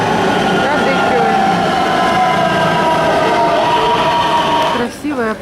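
A metro train at Kadıköy station in Istanbul runs loud and close, with a sustained rumble and whining tonal hum that eases off at the end, where a voice briefly speaks.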